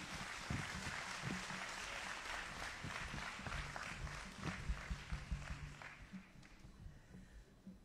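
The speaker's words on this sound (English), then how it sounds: "Please give Her Excellency Margot Wallström a big applause." An audience at the opening of the Tunis Forum on Gender Equality applauds a speaker, steady clapping heard at a distance that grows into sharper individual claps before tapering off.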